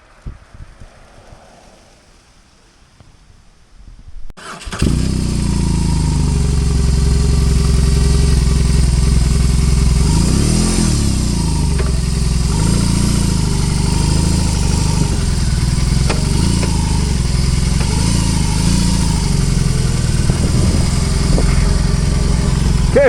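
A motorcycle engine fires up outdoors on an autumn day among fallen leaves after a few seconds of quiet, then settles into a loud, steady, close idle that runs on alone for the rest of the clip.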